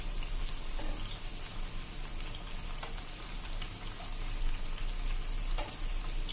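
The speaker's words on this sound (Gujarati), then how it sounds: "ગેસ મીડિયમ ફ્લેમ ઉપર જ આપણે આ પૂરી તળવાની છે." Wheat flour puris deep frying in hot oil over a medium flame, a steady close bubbling sizzle with faint crackles and a few light clinks, continuous throughout with no voices.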